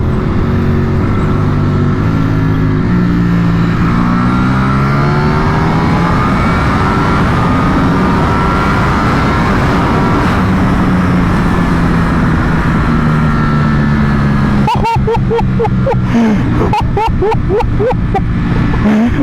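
A 2022 Ducati Panigale V4 sportbike accelerates hard through its gears. The close, loud engine note climbs and drops with each shift, ending in a sharp crackling burst.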